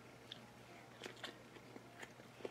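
Fresh microgreens bitten and chewed close up, giving a few soft, crisp crunches spread over a couple of seconds in a quiet room.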